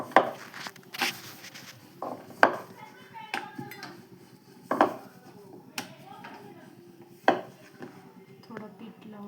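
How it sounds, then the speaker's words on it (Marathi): Chapati dough being rolled into a round with a rolling pin, heard as soft repeated rubbing and knocking strokes with sharper taps every couple of seconds, close and moderately loud, with a voice speaking now and then. "गोल लाटून घ्यायचं"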